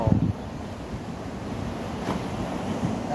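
Ocean surf washing onto the shore at Albion, Mauritius, a steady broadband wash with soft swells and some wind noise, fairly faint and continuous.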